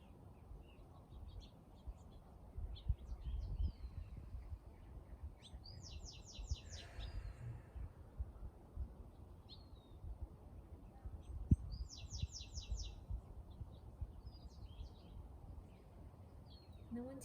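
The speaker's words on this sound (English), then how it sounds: "And just listen to the birds singing," Birds singing outdoors during a quiet outdoor Pilates session, with several distinct chirping and trilling phrases coming and going at a moderate distance over faint rustling background.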